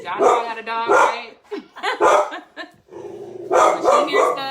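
A guard-mode house dog barks and yips in repeated bursts, close and loud, overlapping with ongoing conversation between several people.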